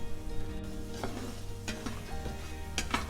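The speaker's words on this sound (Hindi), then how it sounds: "अब यही वाले घी में कुछ मखाने हम फ्राई कर लेते हैं।" Fox nuts (makhana) fry in ghee in a pan with a quiet sizzle and a few light stirring taps, close by and without talk.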